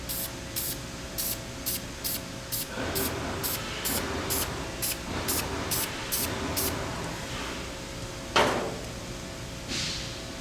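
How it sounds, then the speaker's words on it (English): Texture coat sprayed in short repeated bursts for a drywall touch-up repair, a steady hissing spray close by, with a few soft knocks and a sharper clack near the end. "I will apply one more texture coat and see what it looks like."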